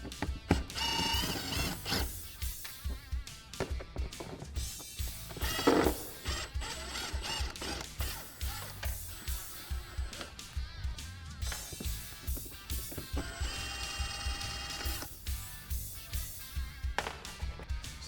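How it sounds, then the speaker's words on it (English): Bolts of factory hardware on a Can-Am Defender HD10 are worked loose with a socket from outside and a wrench from inside, giving quiet metallic clicks, ratcheting taps and scrapes in irregular bursts. "We'll come from the outside with the socket and then the inside with a wrench."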